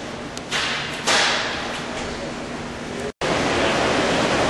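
Water flowing through a 6-inch pipe at about 1,000 gallons per minute makes a steady, loud broadband rush with a low hum beneath, broken by a couple of thumps and one brief dropout.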